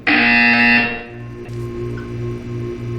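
A loud buzzer from the Portal 2 game sounds at once, a harsh sustained electronic alarm tone holding for about a second, then fading into a low rhythmic pulsing hum that continues underneath.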